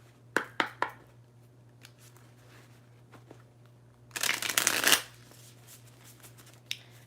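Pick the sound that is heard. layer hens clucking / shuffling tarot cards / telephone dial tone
shuffling tarot cards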